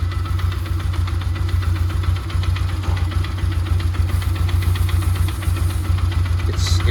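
A 1998-2005 Polaris Sportsman ATV engine runs loud and steady at close range with a knocking, rhythmic mechanical chatter from the spinning primary clutch and belt, with no talk over it.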